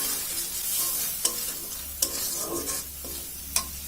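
Spice paste with green chillies and turmeric sautéing in a pan, a quiet steady sizzle broken by a few sharp clinks of a spatula stirring.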